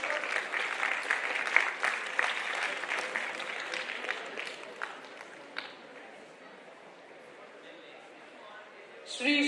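A conference audience claps in a steady round of applause, loud and dense at first, then thinning and fading out, ending with a brief louder sound.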